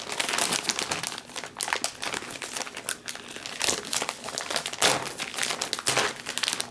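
Packaging of a Swedish 24-hour freeze-dried ration being opened, with continuous close crinkling and crumpling of plastic wrap and pouches handled in bursts.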